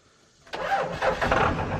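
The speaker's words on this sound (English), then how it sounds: "This little thing right here started my freaking truck." A truck engine, started with a small jump starter, cranks and catches at once, roaring into a steady, close idle after a brief quiet start.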